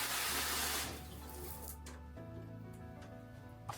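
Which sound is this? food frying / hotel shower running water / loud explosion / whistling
hotel shower running water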